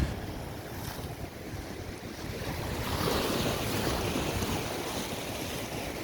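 Ocean waves at dawn, with steady surf and a cool breeze: a broad, continuous wash swells gently midway and stays close and full, with wind noise on the microphone and no voices.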